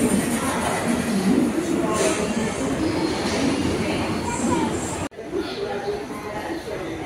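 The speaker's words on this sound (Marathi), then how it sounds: "साडेसहा वाजलेत आणि बघा ही वंदे भारत ट्रेन आलेली आहे." A Vande Bharat train pulls into a railway station with a loud, continuous rolling rumble, rattling carriages and squealing wheels, while people talk over it; a brief dropout cuts the sound near the end.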